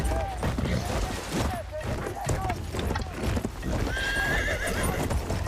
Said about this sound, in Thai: ขี่ม้าหนีก่อน